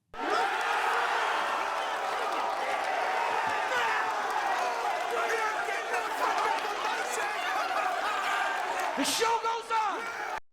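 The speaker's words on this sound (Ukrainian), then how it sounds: "тут зараз мають звучати овації для українських видавців" A crowd ovation sound effect with applause, cheering and excited chatter blending into a steady, moderately distant wash of noise that swells slightly and cuts off abruptly at the end.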